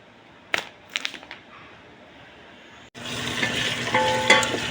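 Potatoes and carrots being stirred in a pan, a few scraping knocks at first, then a sudden loud, steady sizzle and crackle as they start sautéing, close by and without talk.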